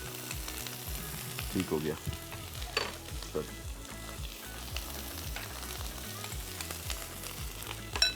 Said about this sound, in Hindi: इसको हम थोड़ा सा फ्राई कर रहे हैं और ऑयल बहुत कम इस्तेमाल किया है